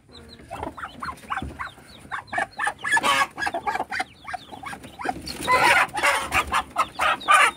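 A hen clucking close by as it is removed from a brooding Muscovy duck nest, a busy run of short, choppy clucks and squawks with louder bursts, no voices heard.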